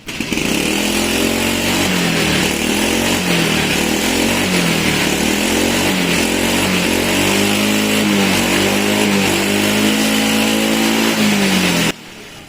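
A loud motorcycle engine runs steadily close by, its low rumble rising and falling in rhythmic surges like revving, then cutting off abruptly near the end.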